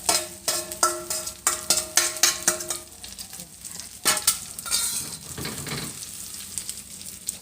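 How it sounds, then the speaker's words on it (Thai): Seasoned beaten egg with wild sweet leaf shoots cooking as an omelette in a pan, starting with a run of rhythmic tapping clicks, then giving way to a louder, uneven sizzle and crackle. "ไข่ที่เราปรุงไว้ใส่ยอดผักหวานไว้ลงไปเลยค่ะ"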